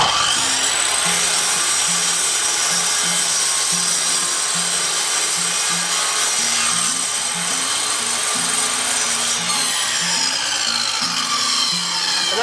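A mitre saw cuts skirting board held against the back fence, running loud and steady throughout with a bright whine and harsh rasping bite through the wood, under a low pulsing motor drone.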